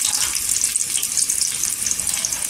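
Sliced onion fries until golden in a pan for peanut chutney, giving a continuous close, bright hissing sizzle with no talk over it.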